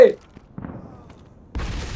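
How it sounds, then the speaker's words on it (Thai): A grenade blast in a World War 2 mobile first-person shooter: a sudden broad burst of noise breaks in near the end after quieter scattered thumps, with a voice speaking at the start. "พระเจ้าจอร์จโยนระเบิดไป"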